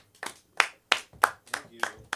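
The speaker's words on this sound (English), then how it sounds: "Give a round of applause to the one and only Mike Moody." Sparse clapping greets comedian Mike Moody at an LA School of Comedy Manic Monday show: about six sharp, evenly spaced claps, close and moderately loud, more like a few hands than a full crowd.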